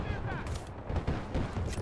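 Rapid gunfire crackles in a Battlefield Bad Company 2 firefight, dense bursts of shots rattling close with a booming low end, loud and unbroken over the short stretch.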